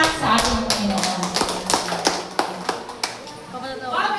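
A congregation in a chapel gives a round of applause during a Catholic seminar, with scattered, uneven hand claps, some sharp and close, mixed with voices.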